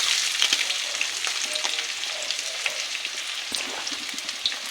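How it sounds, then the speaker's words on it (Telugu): Shahi jeera, green chillies and onions frying in hot oil in a pan, a continuous soft sizzle with crackles and occasional stirring scrapes, fairly quiet and without talk. "ఇవి కొద్దిగా బ్రౌన్ కలర్ వచ్చేంత వరకు వేయగలుగుతాం"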